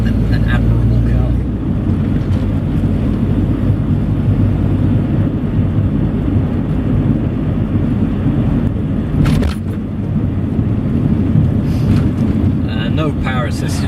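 A Triumph Acclaim L car driving, its steady low engine and road rumble continuous throughout with wind buffeting at the microphone and brief louder gusts.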